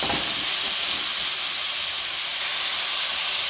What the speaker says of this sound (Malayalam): കൂടെ നമ്മൾ തക്കാളി കൂടി ഇട്ട് കൊടുക്കാം എല്ലാം കൂടെ ഒന്ന് നമുക്ക് വഴറ്റി എടുക്കാം